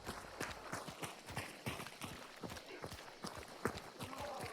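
A horse noise trap in the shooter game Hunt: Showdown gives off a quick run of hoof clip-clops with snorts and jostling, repeated at an uneven rhythm, fairly quiet as if heard from a distance.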